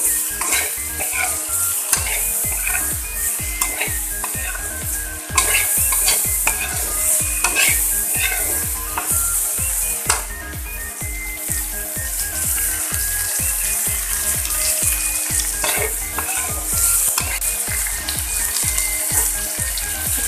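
Eel pieces fry in a pan while a utensil stirs them steadily, giving a loud, continuous sizzle broken by rhythmic scraping strokes throughout, with no talking.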